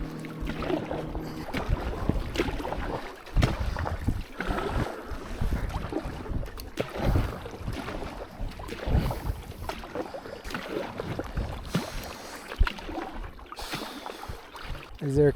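Canoe paddled hard across a lake in Algonquin, with irregular splashing paddle strokes and gusty wind noise on the microphone, fairly close and steady throughout.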